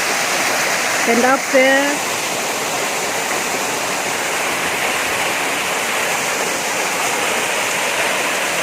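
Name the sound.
waterfall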